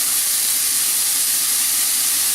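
Onions sizzling and sweating in a crowded pan while making Alsatian choucroute, a steady close hiss with no talk.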